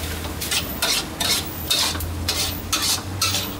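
Glass noodles with minced pork and holy basil are stir-fried in a pan: about six rhythmic, close scraping strokes of a spatula over a constant sizzle, with no voices.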